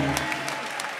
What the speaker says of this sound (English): Come on, clap your hands and say praise the Lord.